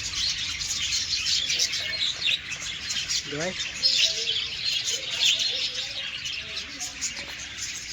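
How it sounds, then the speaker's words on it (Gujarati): Small parrots chirp near a library outdoors, giving scattered short calls against a constant hiss of background noise, with a voice speaking briefly. "બહુ બધા પોપટ છે અહીંયા."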